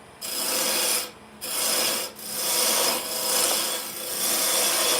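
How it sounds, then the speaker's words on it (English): An all-purpose carbide woodturning tool cuts into a spinning wooden cake stand on a lathe, a loud close rasping shear broken by short pauses between passes. "I'm just using this all-purpose carbide as sort of like a quick stock removal"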